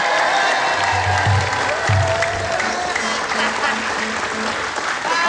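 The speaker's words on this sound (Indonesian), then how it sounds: "tolong penonton, tepuk tangannya coba" A studio audience at a comedy variety show claps steadily and loudly throughout, a dense continuous wash of applause with faint cheering and a voice beneath it.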